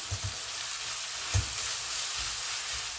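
A spoon stirs spices and coriander powder into onions in a frying pan. A steady close sizzle runs throughout, with soft low thumps of the spoon against the pan.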